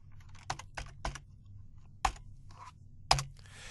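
A few separate keystrokes on a computer keyboard as a date is typed in, sharp isolated clicks spaced irregularly over a low steady hum, no talking.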